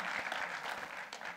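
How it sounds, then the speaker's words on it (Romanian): Short burst of dense audience clapping at a political campaign launch in Onești, Romania, a close crowd applauding steadily for just over a second. "Vă rog aplauze și pentru el."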